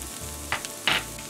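Carrots and chickpeas crisping in a pan for curry fried rice, giving a low steady sizzle with two brief louder bursts of spattering or stirring partway through, close by and with no talk.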